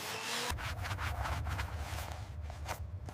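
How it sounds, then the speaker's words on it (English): A handmade shoe heel is sanded by hand in a run of quick rhythmic rubbing strokes over a low steady hum, close and fairly quiet. "The sanding begins now."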